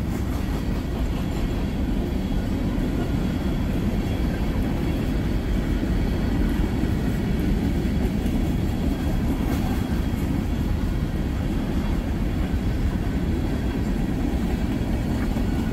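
A Norfolk Southern freight train rolls slowly past a crossing, a steady loud rumble of wheels and cars with faint clickety-clack, continuous and close with no talking.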